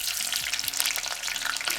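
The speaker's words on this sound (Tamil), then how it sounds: "வெள்ளை இல்லாமல் வறுத்து இறக்குங்க." Sliced okra (ladies finger) fries in hot oil with a steady, close crackling sizzle, while a few soft clinks of stirring break in.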